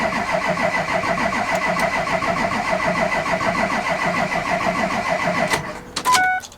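A cold engine cranks after its glow plugs have heated, a fast, even chugging of the starter for several seconds before it cuts out with a short burst at the end.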